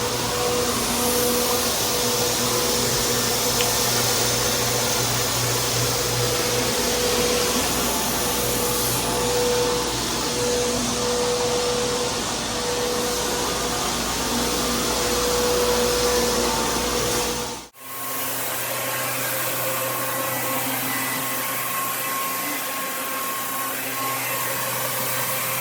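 A floor machine screening a restaurant floor, running as a loud, steady, close whine with a broadband rush; near the end it briefly cuts out, then resumes with a slightly different hum.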